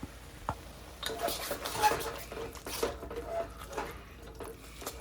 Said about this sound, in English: Drop it in, scrape your bowl out